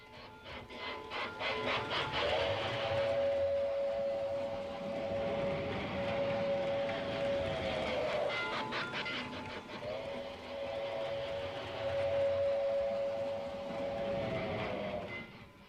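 A Lionel model train on a layout hums and clatters along steadily at moderate distance, with a whining motor tone rising and falling as it runs.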